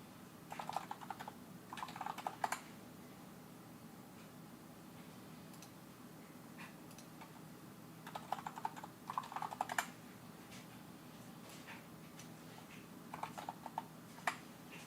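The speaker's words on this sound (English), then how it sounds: "Me clicking things." Someone types and clicks on a computer keyboard in short, quiet bursts of rapid keystrokes, separated by pauses, over a steady low hum.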